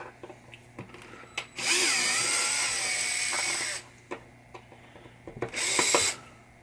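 A power screwdriver whirs in two bursts, a long one and then a short one, as the coil stop screws come out of a 1973 Williams Travel Time pinball flipper assembly. Small clicks and handling noises fill the gaps, close up.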